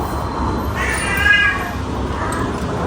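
A cat gives a single drawn-out meow, moderately close, over steady background noise.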